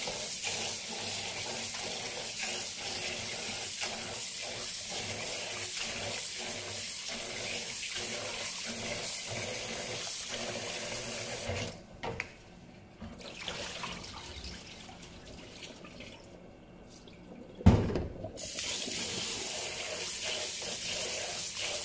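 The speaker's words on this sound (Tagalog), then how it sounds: "Kaya maghuhugas na po tayo ng bigas para sa kanin." Rice is washed under a running kitchen tap, a steady stream of water pouring and splashing, briefly changing pitch midway as the grains are stirred, with no speech.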